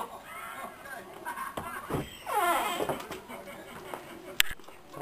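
A basset hound whines in rising and falling, wavering cries that peak near the middle, set against a steady indoor background hum and a brief knock near the end.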